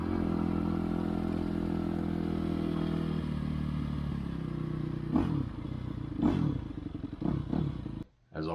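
Engine of a 2004 Yamaha YZ250F dirt bike running in fifth gear, a steady loud drone with low harmonics, then a few clattering thumps and bumps near the end and a brief dropout.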